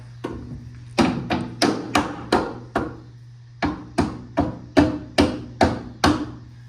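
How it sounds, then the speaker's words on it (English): Hammer blows on the bent metal of a crashed BMW quarter panel, a dozen or so sharp, loud strikes in two quick rhythmic runs separated by a short pause, with a steady hum underneath. "now I'm just gonna take a hammer and beat all these up"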